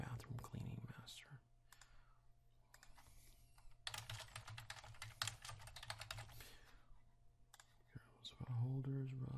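Keys being typed on a computer keyboard while entering a product search, a quick run of clicks in a burst mid-clip, with quiet speech and a low hum around it.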